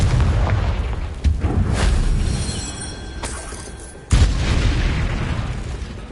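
A Confringo blasting spell goes off in the Hogwarts Legacy video game: a sustained rumbling roar that swells, then a sudden loud boom near the end followed by a thick low rumble.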